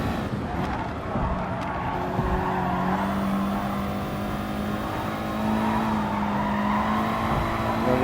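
A Group 4 race car in a racing video game drives through corners, its engine droning loud and close with tire squeal and shifting pitch as it brakes and accelerates, with no one talking.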